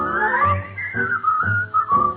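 A person whistles a bright song melody in an old radio comedy, several clear sustained notes rising and falling, loud and close with no speech.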